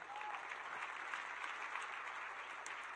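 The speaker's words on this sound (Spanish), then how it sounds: "Iglesia, podemos recibirla con un aplauso." Church congregation applauding on a Mother's Day service, steady, moderately distant clapping from many hands, continuous throughout.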